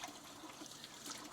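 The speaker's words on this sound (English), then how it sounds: "You see the water still pouring down inside of the pot." Water pours into a pot while dishes are rinsed at a sink, a steady splashing rush that stays close and continuous with no talk.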